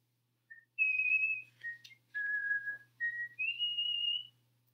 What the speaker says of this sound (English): Jubal skipped on, whistling a happy tune